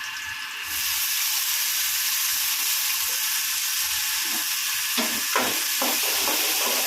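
Chopped onions hit hot oil and set off a loud, steady, hissing sizzle that holds throughout, with a few light stirring clatters toward the end.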